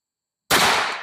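One loud rifle shot from a CVA Scout single-shot chambered in 450 Bushmaster breaks the silence, with a sharp blast that decays into a lingering boom.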